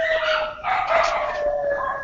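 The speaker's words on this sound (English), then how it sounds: "There's about 5 yippy dogs that howl for about 10 minutes," Several small neighborhood dogs howl and yip together in a continuous, wavering chorus, fairly loud and sustained with no talk.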